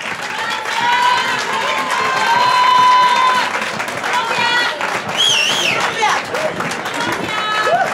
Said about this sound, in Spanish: Un aplauso para todas ellas.